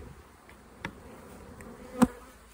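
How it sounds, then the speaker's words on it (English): Honey bees buzz softly around an open hive frame packed with pollen and brood, a low hum broken by a couple of brief, closer buzzes as single bees pass near. "Nothing wrong with these bees."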